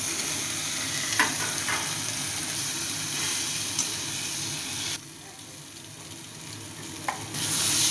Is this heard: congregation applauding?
no